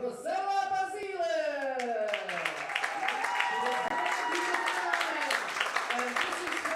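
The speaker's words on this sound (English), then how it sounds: "so extra clap hands" Audience applause for an Italian air pistol finalist being introduced at an international shooting competition's gold medal match, steady clapping filling the hall throughout with announcer-style voice tones at the start.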